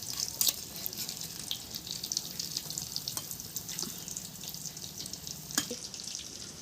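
Eggs frying lightly in a pan, a soft, steady sizzle with a watery, bubbling texture, broken by a few sharp utensil clicks, heard close and fairly quiet.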